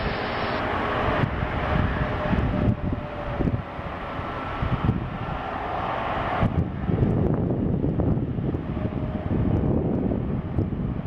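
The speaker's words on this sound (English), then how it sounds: "United's gonna go do an immediate departure." A United airliner bound for Chicago O'Hare takes off at Seattle airport, its broad jet roar loud and steady throughout, mixed with gusty wind buffeting the microphone.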